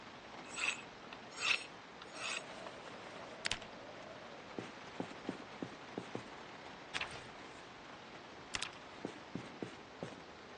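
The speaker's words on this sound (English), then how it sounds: "I'm going to go ahead and sharpen since we have a semi-protected place here." A weapon being sharpened in the video game Project Zomboid: a few short rasping strokes early on, followed by scattered faint clicks and light knocks, all quiet and distant.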